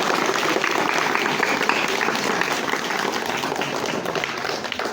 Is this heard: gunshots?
no